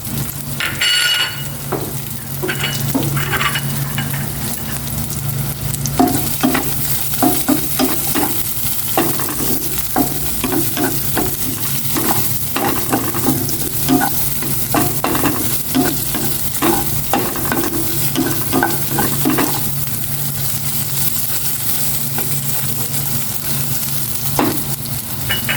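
Onions frying in a pan while being stirred, a steady close sizzle with repeated scraping and clattering stirs throughout, no talking.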